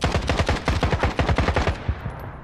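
Gunfire in the shooter Stalker 2: Heart of Chornobyl rattles out as a loud, rapid automatic burst of about fifteen close shots, then cuts off and fades into a brief echo.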